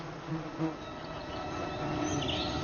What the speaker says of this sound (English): He's standing on a beehive.